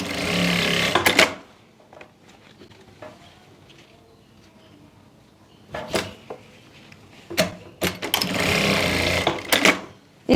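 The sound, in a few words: sewing machine stitching elastic onto trouser fabric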